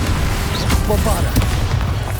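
A Bombarda spell explosion in the wizarding game Hogwarts Legacy: heavy, continuous booming rumble with layered blasts and crackle, loud and sustained, with a voice faintly mixed in.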